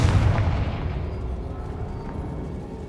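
The Confringo blasting spell in Hogwarts Legacy goes off as a loud, deep explosion that booms immediately and rumbles away over a few seconds.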